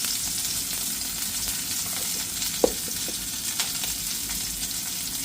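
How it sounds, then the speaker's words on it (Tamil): Onion, green chilli, mustard seeds and plenty of curry leaves sizzle steadily in hot oil for a spinach tempering, a constant close frying hiss with one brief sharp pop partway through and no talking. "கீரைக்கு வந்து கொஞ்சம் வெங்காயம் பச்சை மிளகாய் கடுகு ரொம்ப கருவேப்பிலை போடுவோம்"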